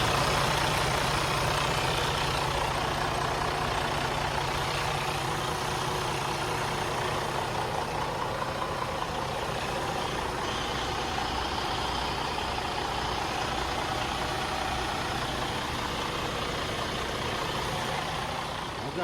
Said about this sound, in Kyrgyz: Азыр мен мотордун иштегенин көрсөтөйүн.